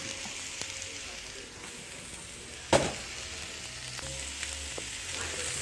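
Beef and vegetables for an oriental stir fry sizzle steadily in a hot pan, a continuous close frying hiss with one brief clatter partway through.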